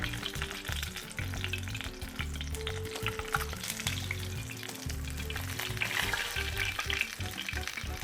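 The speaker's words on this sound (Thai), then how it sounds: "การใช้กระบวย ในการตักแทนตะหลิวเนี่ยมันก็ทำให้เราสามารถ กวาดน้ำมันไปรอบ ๆได้นะคะ" A ladle sweeping frying oil around a pan in a messy kitchen, a dense constant sizzle with repeated scraping strokes and clatter of metal over several seconds.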